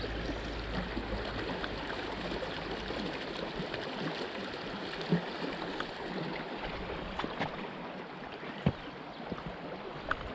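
Creek current flowing steadily past, a continuous close wash of rushing water with a few small splashes and knocks on top.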